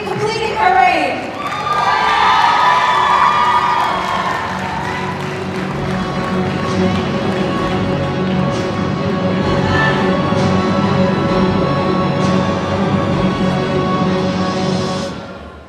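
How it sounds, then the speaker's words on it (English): An audience at a Miss/Mrs/Teen India USA pageant applauds and cheers a departing queen, with loud sustained clapping, whoops and shouts filling a large hall. The noise stays full for most of the span, then fades slightly at the end. "Please give her a round of applause for successfully completing her reign."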